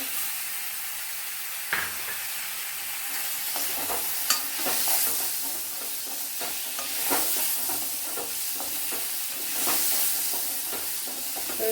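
A large tomato added to three-quarters-cooked onions frying in a pan for Kerala-style pappadam thoran, giving a steady close sizzle with sharp scraping and clinking strokes of a spoon stirring at irregular intervals.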